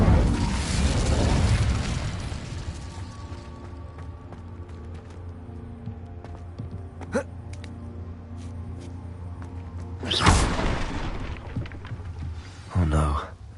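Incendio fire spell cast in Hogwarts Legacy, bursting as sudden whooshing blasts, one strong near the start and sharper bursts later, over a low hum with a voice speaking.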